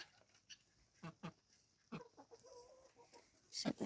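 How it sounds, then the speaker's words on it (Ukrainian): A bearded hen clucks close by in quiet, scattered bursts, with a few louder calls near the end. "Бородата моя курочка."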